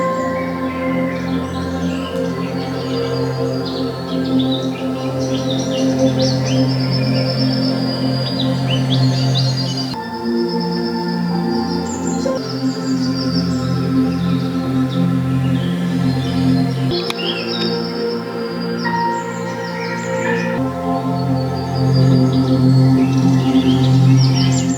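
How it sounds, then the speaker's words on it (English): Birdsong from a Dolby Atmos nature recording plays on a Sony HT-A5000 soundbar with 360 spatial sound: many overlapping chirps and tweets, some near and some far, sitting over a steady low hum of background ambience, with no voices. "the birds sounded really crisp and felt like they were flying all around me"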